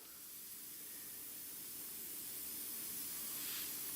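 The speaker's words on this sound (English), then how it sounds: "So you just get it going, spray very little." A fine, steady hiss of liquid sprayed onto decal tape for a model airplane, faint and close, holding evenly for a few seconds with a slight swell near the end.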